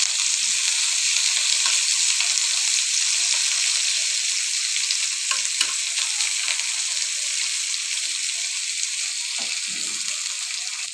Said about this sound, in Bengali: এখানে শুকনো মরিচটাকে তেলে উঠে নিচ্ছি আর এখানে পেঁয়াজটাকে ভেজে নিচ্ছি